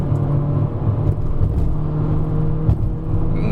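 A Volkswagen Vento 1.2 TSI in auto mode taking a corner on the Genting hillclimb, a steady engine hum and road rumble from inside the car with faint tyre whir, loud and continuous.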